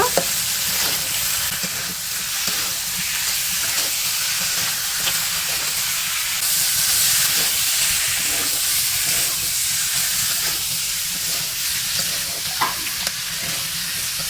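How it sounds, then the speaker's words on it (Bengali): Chicken meat sautéing in hot oil with spices for a Bengali curry, a loud steady frying sizzle heard close up, with occasional stirring scrapes and no talking. "এখন আমি মাংসগুলো দিয়ে দেবো আমি মাংসগুলো ভালো মতো কষে নেব"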